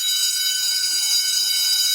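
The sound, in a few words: class bell ringing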